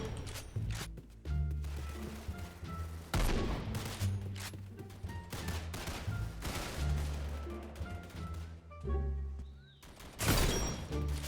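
An Intervention sniper rifle fires repeatedly in a video game, with loud booming shots and bursts of dense gunfire scattered through the clip over a low droning background.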